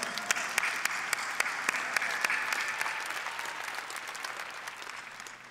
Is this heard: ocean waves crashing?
no